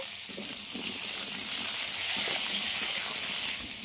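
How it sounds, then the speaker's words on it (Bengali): Cubed potatoes fry in hot oil seasoned with black cumin, giving a steady, even sizzle and hiss that stays close and constant, with faint soft scraping underneath and no talking. "আলুগুলো একটু লাল লাল করে ভেজে নেব।"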